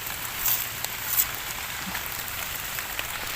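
Steady rain patters across a wet forest floor while white Amanita mushrooms are gathered into a basket, a soft continuous hiss with a few slightly louder drops and no voices.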